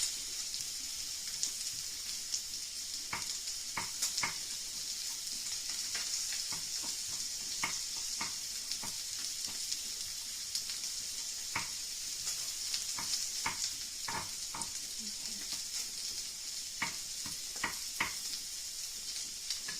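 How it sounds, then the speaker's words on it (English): Salmon fries undisturbed in a pan, giving a steady, close hiss of sizzling oil with scattered small pops and crackles throughout, alone without voices. "if you have a look at this salmon, we've left it alone, the bottom's going to go nice and crispy. And it's starting to cook through"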